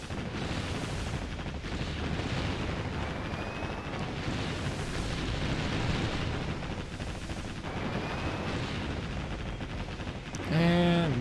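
Ship guns firing in the video game Warship Gunner 2 Portable, a dense continuous barrage of booming shots and explosions, loud throughout, with a brief chiming game sound near the end.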